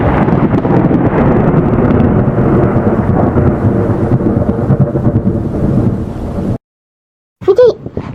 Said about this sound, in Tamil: மழை பெஞ்சுக்கிட்டு இருக்கு